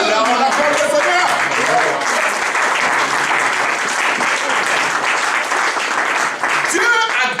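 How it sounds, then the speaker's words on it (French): A church congregation claps continuously and loudly for several seconds during a French-language worship service, with voices mixed into the dense clapping. "On applaudit le Seigneur."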